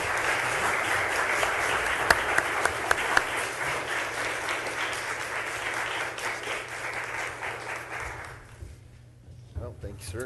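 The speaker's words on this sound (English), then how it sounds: "now I think it's appropriate to give a round of applause to the League and the candidates" Sustained applause from an audience at a League of Women Voters candidate forum, steady and fairly distant, fading out near the end as a few voices begin to speak.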